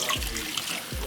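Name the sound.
water from washing collard green leaves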